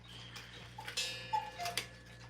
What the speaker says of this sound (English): I forgot to stop that cuckoo clock.